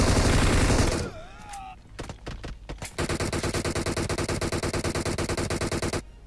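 Rapid bursts of automatic gunfire from a video game, a short spray followed by a few single shots, then a long sustained stream of fast, rhythmic fire.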